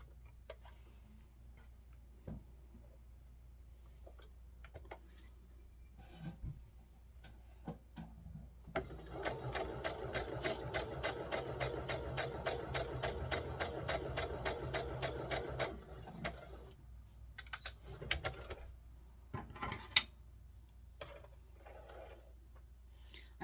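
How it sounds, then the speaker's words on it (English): A home sewing machine stitches the shoulder seams of a girl's dress made from Simplicity pattern 3522, running in one steady rapid burst of needle ticks for about seven seconds amid quieter handling clicks and fabric rustles before and after. "we're ready to sew the shoulders"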